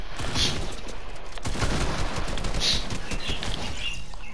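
Gunfire in a shooter video game, with a dense run of sharp, rapid shots and booms crackling continuously at close range, loud and busy throughout.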